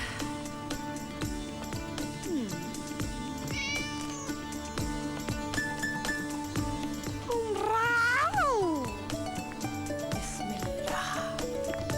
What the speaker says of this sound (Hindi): मेरी बिल्ली।